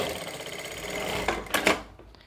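A sewing machine runs steadily, stitching the belt of a farshi salwar, then rattles through a few louder bursts before slowing to a stop; no one speaks.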